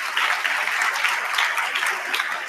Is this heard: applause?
yes